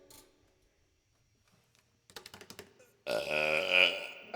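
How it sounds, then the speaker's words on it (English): A loud, drawn-out human burp lasting over a second, close and raspy, preceded by a few quick light taps. "I got a burp."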